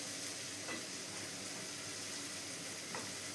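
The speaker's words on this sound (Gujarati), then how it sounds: "એને પણ આપણે બટરમાં સોતે કરી લેવાનું છે વ્યવસ્થિત રીતે" Spinach sizzles as it sautés in butter in a pan, a soft, steady crackling hiss with faint stirring, quiet and without talk.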